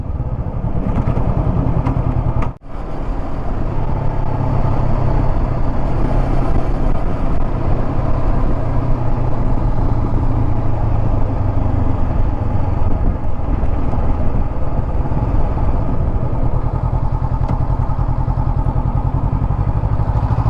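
A Honda CB500X motorcycle is ridden through Pattaya late at night, its engine droning loud and steady under constant wind buffeting, with one brief dip early on.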